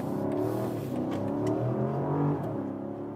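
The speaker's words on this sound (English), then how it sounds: "there you hear the V8, definitely even louder than in the US versions without that petrol engine particle filter." A BMW X5-class SUV's petrol V8 revs loudly and continuously, a deep rising and falling engine roar filling the whole stretch with no talk over it.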